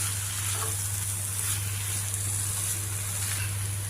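Pumpkin curry with sesame chili powder stirred in a pan, giving a steady, soft sizzle of frying with a constant low hum underneath and no talking.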